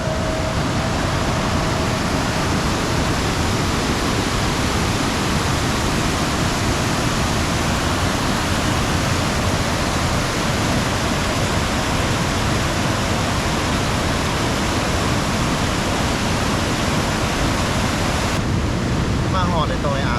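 A waterfall roars as a loud, continuous wash of falling water, dense and unbroken for the whole stretch. No voices are distinct above it.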